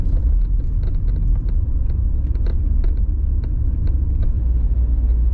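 1983 Porsche 924 2.0 with automatic gearbox cruising in third gear at low revs around 30 mph, a steady low engine rumble from inside the cabin with faint rattles and clicks over it, no talking.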